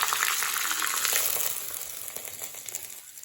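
A hot curry leaf tempering is poured over cooked tapioca, giving a bright, close sizzle and crackle that starts strong and gradually fades over a few seconds, with no talk.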